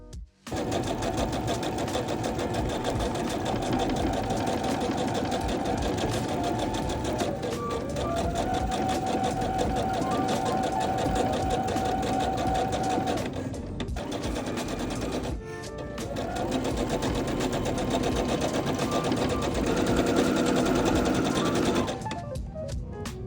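A sewing machine stitches along the raw-edge seam line of a denim patchwork blazer facing, running loud and steady for most of the stretch, with a short pause and a brief change in pitch partway through.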